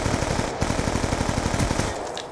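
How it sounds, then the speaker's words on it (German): Rapid automatic gunfire in Black Ops 2, a loud, fast, even burst of shots lasting about two seconds against dense game noise, then trailing off. "Ich höre Schüsse, ja, da oben"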